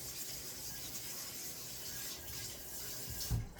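A spoon is washed under a running kitchen tap: a faint, steady hiss of flowing water with soft rubbing, ending in a small clatter.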